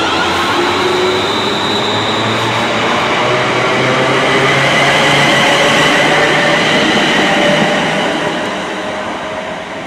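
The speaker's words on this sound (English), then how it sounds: "Train's coming now, so we're just going to film it down the bottom here." A London Northwestern Railway Class 350 electric multiple unit passes on the West Coast Main Line at Acton, a loud, steady, close rumble and roar of wheels and motors that holds for the whole stretch, then eases slightly at the end.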